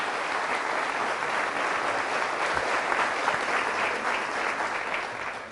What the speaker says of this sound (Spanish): Fuertes aplausos a nuestro Señor y Salvador Jesucristo